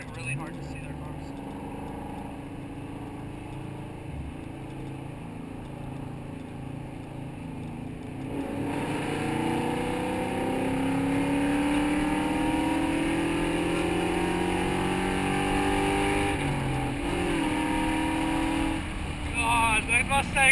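Ford Mustang Fox body cars racing, one with a massive exhaust leak, their engines droning steadily and then growing louder and rougher as they pass, with people talking over the noise throughout.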